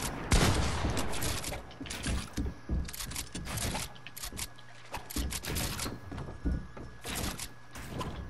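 Rapid gunfire from the video game Fortnite during a one-on-one box fight, crackling in dense bursts and repeated shots across the whole stretch, fairly loud and close.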